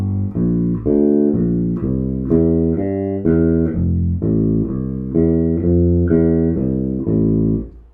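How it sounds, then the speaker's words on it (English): A bass guitar plays a slow walking bass line of about a dozen evenly spaced, sustained notes, close and clean with no accompaniment or talking. "So let me put the whole of that walking bass line together with you slowly."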